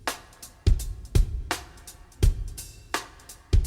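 Drums play a steady beat with strong kick hits about every half second and crisp snare or cymbal strikes, close and clear, carrying a simple song groove in a songwriting lesson.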